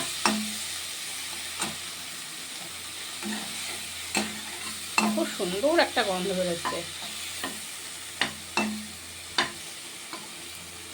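A spoon stirs a mustard, garlic and green chili spice paste into taro frying in a pan, with repeated sharp scraping knocks over a soft sizzle; a voice speaks briefly.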